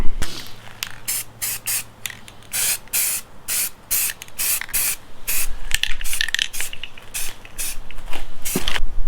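Bursts of aerosol spray paint laying down a base coat on an MK7 GTI part, a dozen or more short hissing sprays in uneven rhythm, loud and close with no voices.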